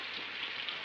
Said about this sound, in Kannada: ಮಳೆ ಬರ್ತಾ ಇದೆ ಚಳಿ ತಡೆಯಕ್ಕಾಗಲ್ಲ